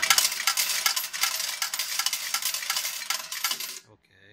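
A Franco Primavera slot machine pays out coins in a rapid, dense metallic clatter that pours into the tray for several seconds and then stops sharply.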